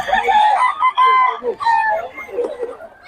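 Roosters and chickens at a gamefowl market in Bocaue cluck and crow loudly and close by, with several overlapping calls filling the short stretch.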